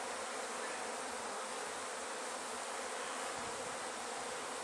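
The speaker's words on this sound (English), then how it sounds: "these don't seem like very mean bees" Honey bees buzz in an open hive box of a docile colony during a hands-on queen search, a dense, steady, close swarm drone filling the whole stretch without any talking.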